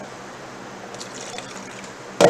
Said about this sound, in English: I'm going to throw a little cold water in there